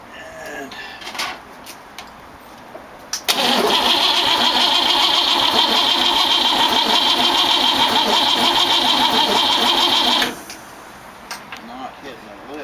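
An old car with a bad coil cranks for about seven seconds without catching, a steady loud grinding starter whir that stops abruptly, with quiet talk before and after.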